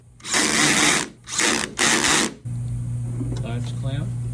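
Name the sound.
ratchet driving T30 Torx screws on FJ Cruiser door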